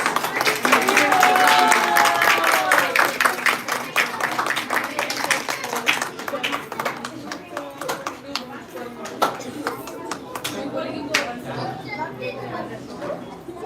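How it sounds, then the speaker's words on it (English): At a children's annual day celebration, a crowd claps loudly and steadily while children and adults chatter throughout; the clapping stays dense, then becomes sparser with sharper individual claps over the continuing voices. "Big round of applause, please."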